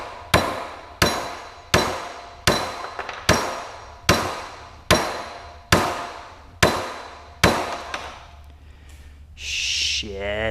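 A big hammer drives a pointy screwdriver against a jammed part during an LS engine swap on a Porsche 944 at a workbench with a vise: about ten loud, evenly spaced metallic blows, then scraping and rattling.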